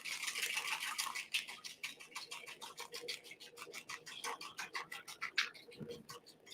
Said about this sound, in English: now I'm going to whisk that together.